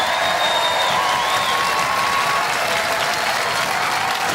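A studio audience at a robot combat show claps steadily and loudly for a team, a dense continuous wash of applause with faint cheering mixed in.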